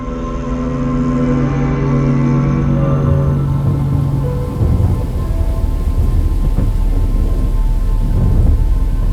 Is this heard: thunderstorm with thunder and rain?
yes